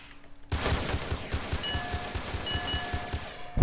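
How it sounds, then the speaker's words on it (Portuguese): Rapid video-game gunfire in SA-MP, a dense fusillade of shots starting abruptly and continuing as a loud, steady volley with sharp repeated cracks and no talking. "eu tô tomando pipoco aqui. Onde é que veio esse tiro?"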